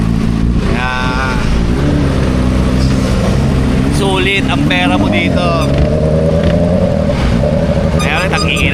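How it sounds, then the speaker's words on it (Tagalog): Motorcycle engine running steadily with a droning rumble and shifting revs on a hot, windless day, loud and close beneath someone talking throughout. "Kaya ulit ang ingay ng motor."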